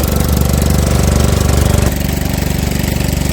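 A river boat's engine chugs steadily and loudly up close during a ride on the water, with a rapid knocking pulse that shifts slightly in pitch partway through.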